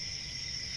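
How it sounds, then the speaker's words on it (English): Crickets chirp in a steady, continuous high trill, faint and brief, with no other sound. "Crickets."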